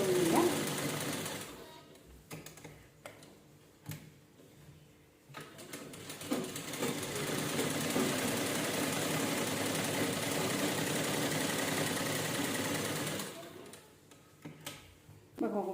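A sewing machine stitches the neck lining onto a blouse neck piece, running in short bursts at first and then in a long steady run of close, even whirring before stopping and restarting briefly.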